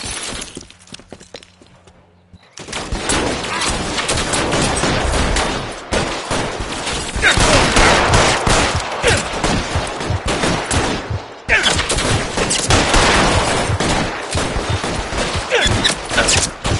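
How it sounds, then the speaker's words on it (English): Video game shootout with dense gunfire: after a quiet opening with a low hum, loud bursts of rapid shots and cracking impacts rage on, briefly dipping before resuming just as intensely. "Shots fired."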